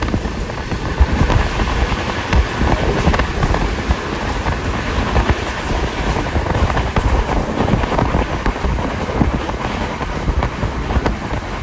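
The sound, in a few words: train travelling on railway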